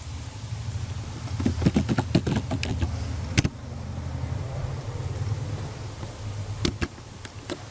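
Search typed out on a computer keyboard, a quick run of light key clicks followed by a pause and a few more taps over a steady low background hum.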